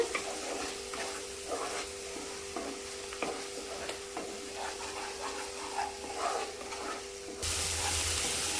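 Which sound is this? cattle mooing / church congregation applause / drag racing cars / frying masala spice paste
frying masala spice paste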